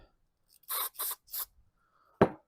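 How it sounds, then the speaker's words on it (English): Starting fluid sprayed in three quick bursts into a stuck tiller engine, crisp hissing squirts with short gaps, close and fairly loud, followed by a single sharp knock. "we're going to squirt it with some starting fluid"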